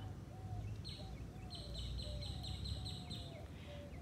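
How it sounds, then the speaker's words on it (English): Birds call along a peaceful riverside walk by the Peace River. Thin, quiet chirps and short whistled notes repeat over soft outdoor background noise. "as you can hear the sound of the birds"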